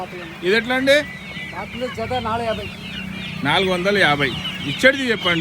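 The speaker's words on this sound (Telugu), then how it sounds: "ఇవి బాతులు కూడా ఉన్నాయి కదండి" Two-month-old young ducks kept in a cart at a livestock market, giving repeated short calls close by while people bargain over prices.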